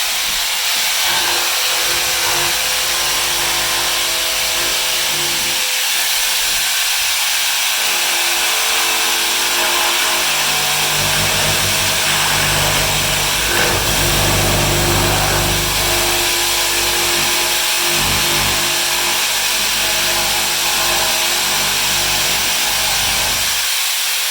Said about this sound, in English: we had to take off the base of our regular jigsaw, put this one on there